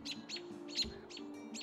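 An American robin gives a series of five short, high chirping calls in an even rhythm, faint and somewhat distant against a low background hum.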